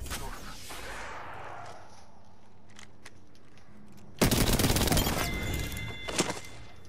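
Video game gunfire: a sudden loud, close burst of rapid shots lasts about a second, then a shorter crack follows after a quieter stretch.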